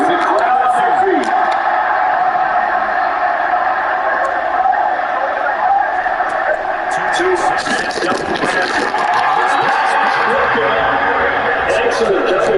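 A packed football stadium crowd roars continuously on a 3rd-and-7 play in a Ravens vs Dolphins game, a dense, loud wall of cheering with scattered shouts throughout.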